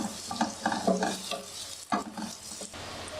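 Onions and chopped garlic sizzling in a pan, a steady soft crackle broken by repeated scraping stirs and a sharp clack of the spoon, fairly close and quiet, with no talking.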